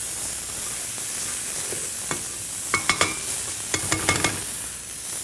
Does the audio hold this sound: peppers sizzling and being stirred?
yes